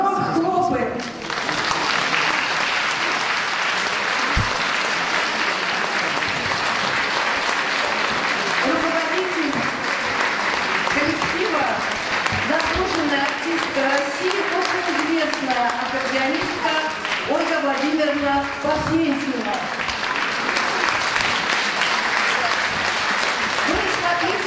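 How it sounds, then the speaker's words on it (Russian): A concert audience claps loudly and continuously at an accordion festival gala in Moscow, welcoming a young accordion orchestra onstage, with an announcer's voice and music running over the sustained applause throughout. "Громко хлопаем!"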